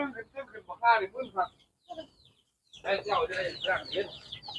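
Chickens cluck in bursts at close range, loud at first, then a brief lull before a denser stretch of clucking resumes, with someone speaking intermittently among the birds.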